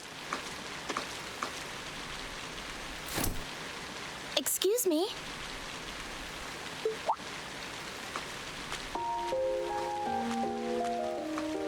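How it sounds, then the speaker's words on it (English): Rain falls steadily at night in the video game Trails of Cold Steel, a soft continuous patter under a brief spoken line, a few scattered game effects and a short musical phrase near the end. "It is quite rainy outside."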